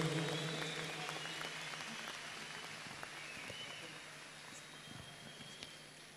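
Audience applause at an indoor celebration event as a municipal mayor is invited onto the stage, a sustained, fairly quiet patter of clapping that slowly fades.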